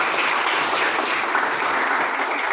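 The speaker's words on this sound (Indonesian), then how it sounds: "Tepuk tangan untuk Pak Fani." Classroom applause for a participant, a steady wash of many hands clapping together, close and even throughout with no talk over it.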